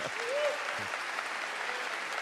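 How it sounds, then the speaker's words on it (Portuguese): Church audience applauding a translator during a bilingual sermon, a broad, even wash of clapping with a brief voice sound near the start. "muito bom, pode aplaudir o tradutor."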